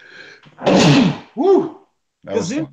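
One sharp, loud sneeze bursts out close to the microphone during a podcast conversation, followed by short spoken exclamations.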